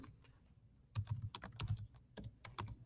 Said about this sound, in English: I can type in my question